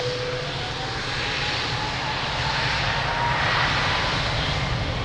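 An aircraft powers down runway 02 at Lisbon Airport for takeoff, a steady, loud engine roar that swells slightly toward the end with no voices present.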